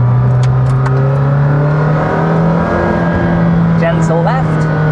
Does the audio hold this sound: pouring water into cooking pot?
no